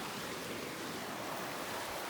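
Fast-moving river water at a backcountry crossing near Jasper National Park rushes in a faint, continuous broadband roar with no talking.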